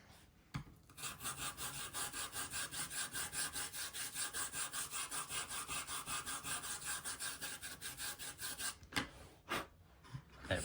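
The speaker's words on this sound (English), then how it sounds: "the edge of the top of the fiberglass brush onto there, and it will just flatten that out" The edge of a fiberglass brush scrubs back and forth across a scratchboard drawing, a fast, even train of dry raspy strokes heard close up for several seconds, then a few slower scrapes.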